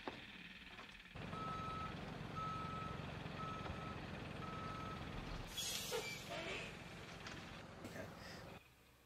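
A reversing vehicle sounds its backup alarm, four evenly spaced beeps over a steady engine rumble, followed by a burst of louder, harsher clattering noise before it cuts off.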